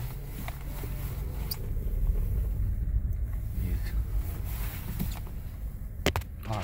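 A 2013 Kia Soul drives along with a steady low road and engine rumble heard from inside the cabin, light rattles scattered over it.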